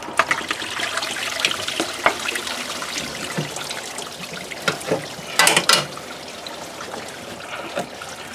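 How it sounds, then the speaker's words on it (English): Coolant draining out of a 1997 Honda Civic engine into a pan pushed underneath, heard as a continuous watery trickle with a few louder splashing bursts partway through. "And now it's time to spill some coolant."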